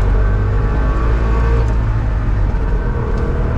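Trabant 601 heard from the cabin while driving on village roads, a loud, rough, buzzy engine drone with a steady low rumble throughout.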